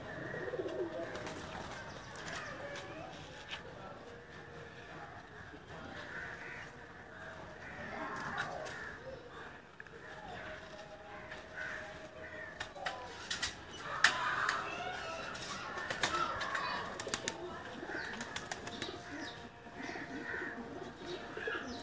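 Caged pigeons cooing steadily at a rural pigeon loft, soft repeated coos mixed with occasional chirps and faint background noise throughout.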